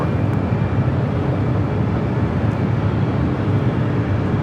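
A JetBlue jet airliner takes off at LAX, a steady broad roar of engines heard from a distance at a constant loud level.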